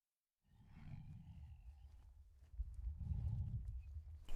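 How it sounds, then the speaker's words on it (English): A big cat, a lion, gives a deep, loud, rumbling roar that starts after a brief silence, eases slightly midway, then swells to a louder, sustained growl near the end, with no talk over it. "the big cat let out a deafening roar that cleared the area in seconds"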